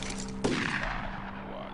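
A single sharp gunshot rings out as soldiers fire in the tactical game UFO Aftershock, a sudden loud crack followed by a decaying ringing tail over a steady background hum.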